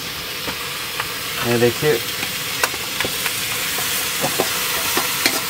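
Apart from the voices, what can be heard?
chicken frying in a pan with fried onions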